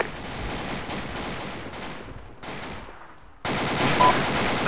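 Gunfire in the video game Arma 2, dense bursts of distant machine-gun and rifle fire crackling under a noisy battle ambience, with a louder stretch near the end.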